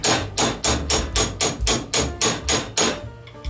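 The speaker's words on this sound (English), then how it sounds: "To press on the top bearing, a little trick is that you can use a socket that's just this, the size of the inner race and tap it on" A socket tapped with a hammer to press a bearing onto the cutter head of a Grizzly benchtop planer, about a dozen evenly spaced metallic knocks in a steady rhythm, close and clear with no talking.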